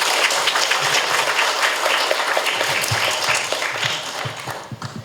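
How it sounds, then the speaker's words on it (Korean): Steady applause fills a seminar hall as a meditation and counselling centre director is introduced, dense clapping that slowly thins and trails off into a few last claps. "큰 박수 부탁드립니다"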